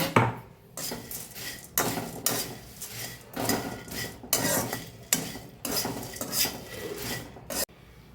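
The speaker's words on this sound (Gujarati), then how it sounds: "મમરા આપણા ક્રિસ્પી છે છતાં પણ આપણે શેકી લેશું।" Puffed rice is dry-roasted and stirred in a kadai, with a spoon scraping and rasping against the metal in repeated strokes, faint and close with no voices.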